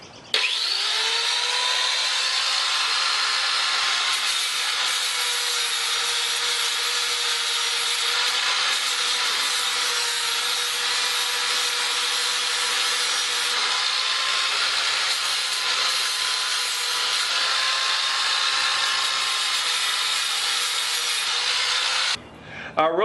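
An angle grinder fitted with a flap disc grinds weld slag off a Harbor Freight trailer frame, giving a steady, loud, high-pitched whine with gritty abrasive rasp that holds for about twenty-two seconds before cutting off abruptly.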